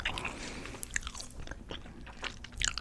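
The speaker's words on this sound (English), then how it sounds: "This gum kind of like bites back. It's like so chewy." Gum chewed close to the mic, with wet, sticky smacks and small crunchy clicks in an uneven rhythm, louder near the end, no talking.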